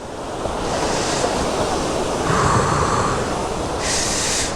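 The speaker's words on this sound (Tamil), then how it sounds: "இதுதான் அந்த இது வாட்டர் ஃபால்ஸில் தண்ணி வர்றது." Water rushes at a waterfall in the monsoon season at Valparai, a steady loud roar with wind buffeting the microphone throughout, and no talk.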